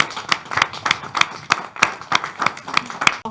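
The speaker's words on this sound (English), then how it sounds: "Give them an applause." An audience at an annual graduation-style event claps along in a steady rhythmic beat, roughly three sharp claps per second, loud and close, continuing evenly throughout.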